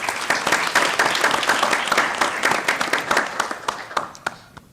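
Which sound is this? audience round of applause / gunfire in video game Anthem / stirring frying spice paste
audience round of applause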